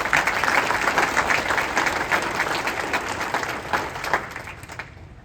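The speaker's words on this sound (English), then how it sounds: "would you please give a round of applause to all of our teams that make that happen" Audience at a water utility's annual meeting applauding its teams, sustained dense clapping from a room full of people, loud at first and tapering slightly toward the end.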